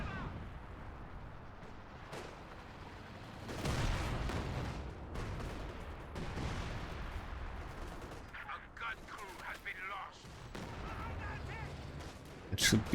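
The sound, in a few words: machine gun fire in video game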